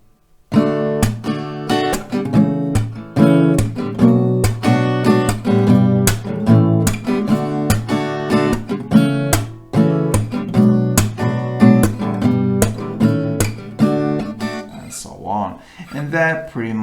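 An acoustic guitar plays a song at full tempo, strummed chords in a steady rhythmic pattern, close and bright, with no one talking over it.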